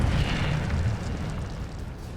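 Incendio fire spell cast in Hogwarts Legacy combat, a loud whooshing burst of flame that starts strong and slowly fades with a rumbling roar.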